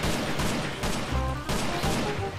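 Gunfire from zombie enemies in Minecraft rings out in a few sharp bursts, each one a loud crack with a short tail, packed close together.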